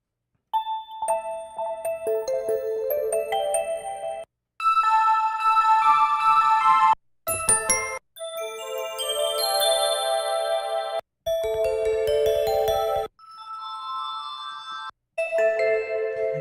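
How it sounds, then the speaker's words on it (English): A detuned, vibey bell patch from Omnisphere or an orchestral sample library plays a series of ringing bell notes and short phrases, with brief pauses between them, loud and close with no talking. "I want some sort of bell sound."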